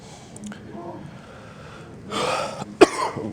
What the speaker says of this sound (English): Apologies for the persistent cough.